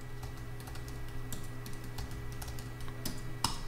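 Password keys tapped on a computer keyboard during a Cisco IM and Presence server setup, with quiet, irregular clicks and a few sharper strokes over a steady low hum.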